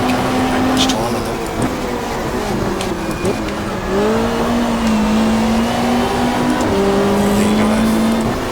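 Hyundai touring car in the GTR2 racing game, 1995 Australian Super Touring Championship race at Winton, its engine droning steadily with throttle rises and lifts, under continuous commentary talk.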